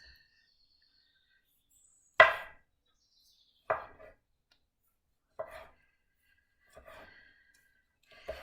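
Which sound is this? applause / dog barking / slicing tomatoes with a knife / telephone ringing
slicing tomatoes with a knife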